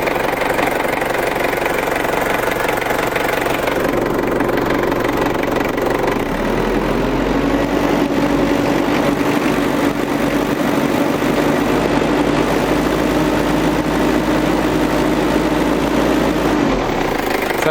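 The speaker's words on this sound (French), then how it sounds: "Un vieux diesel." An old vehicle diesel engine idles steadily with a low rumbling drone and knocking, close and continuous. The pitch shifts slightly partway through.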